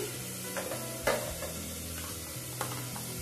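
Onion, garlic and ginger paste frying in a pan for a chicken curry, making a soft, continuous sizzle with a few light stirring taps.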